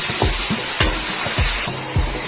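Spices sizzle and fry steadily in a hot pan for aloo gobi, with a steady frying hiss throughout and about five spaced stirring scrapes and clunks of a spoon against the pan, close and loud, with no talking.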